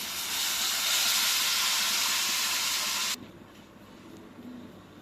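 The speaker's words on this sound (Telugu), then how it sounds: "పోపు వంకాయ పచ్చిపులుసు పోసుకుందాం." Hot tempering poured into raw brinjal pulusu, a Telangana village tamarind stew, gives a loud, steady broadband sizzle lasting about three seconds, then cuts off sharply to a quiet hiss and faint clatter.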